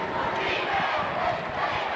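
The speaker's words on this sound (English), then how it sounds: "Now the Lady Eagles crowd on their feet, chanting defense." Lady Eagles fans at a 2003 girls high school basketball quarterfinal chant defense from the stands, a dense, rhythmic crowd roar with steady pulsing shouts.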